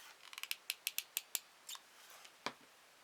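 A run of sharp scissor snips cutting lace trim for a polystyrene egg decoration, quick close clicks that speed up, then a few slower, softer cuts, with no voices.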